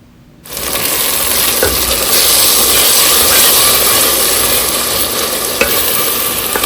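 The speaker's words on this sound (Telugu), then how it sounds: "ఇప్పుడు పెరుగును కూడా వేసేసి 2 మినిట్స్ బాగా మిక్స్ చేసుకోవాలి" Yogurt being stirred into a mutton biryani masala mixture in a bowl, heard as a steady, loud scraping and churning with faint sizzle that begins abruptly and continues without pause, a single sharper clack near the end.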